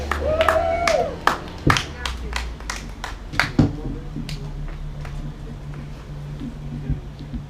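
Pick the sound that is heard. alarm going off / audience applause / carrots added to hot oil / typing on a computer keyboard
audience applause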